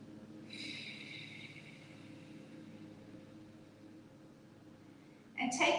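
Slow yoga breathing: a soft, drawn-out breath near the start fading into quiet, then a sharper intake at the end, close and faint, with no speech.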